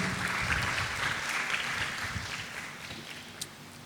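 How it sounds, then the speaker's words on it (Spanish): A church congregation gives sustained applause, a dense, even roar of many hands clapping that fades slightly toward the end. "Denle un fuerte aplauso a nuestro Dios."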